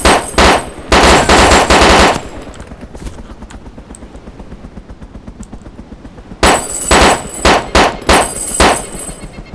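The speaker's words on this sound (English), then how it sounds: "I don't see him, I'm just firing into the bush." Rapid automatic gunfire in the video game DayZ fires in loud sustained bursts, stops for several seconds of quiet, then resumes in a string of short bursts to the end.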